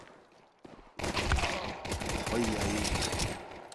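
In a professional Counter-Strike match, sustained automatic gunfire starts abruptly after a quiet moment and stays dense and rapid. An excited commentator talks over it.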